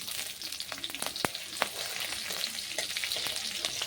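Black cumin and chopped green and red chillies frying in oil for doi potol, a steady close sizzle punctuated by scattered sharp pops and spatters, with no talk.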